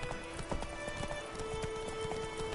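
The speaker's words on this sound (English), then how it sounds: "Whoa there, Roach." Hooves of a horse in the video game The Witcher 3 clip-clop in a quick, steady rhythm, close and clear over a soft ambient bed, with no talking.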